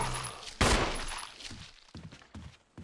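Video game gunfire opens with one loud, sharp blast, followed by a run of quicker, lighter shots that fade off, heard close with no speech.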